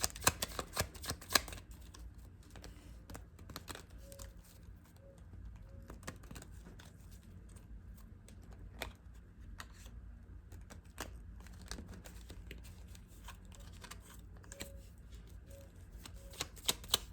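Tarot cards shuffled by hand in a quiet room, a soft, steady papery riffling and patter that runs throughout, with a few sharper card snaps near the start and end.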